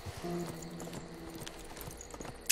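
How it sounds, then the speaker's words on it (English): Horsemen attacking in the strategy video game Civilization 6, with galloping hoofbeats and clip-clop impacts running steadily through a brief battle scene, fairly loud and mixed with game effects, no voices. "the horsemen are attacking us"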